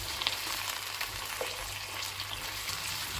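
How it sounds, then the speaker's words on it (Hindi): Mutton with spices sizzles and fries in a pot for a handi dish, a steady crackling hiss up close with a few brief clinks of stirring and no talking. "अब इन सब चीज़ों को आपने अच्छी तरह से भून लेना है।"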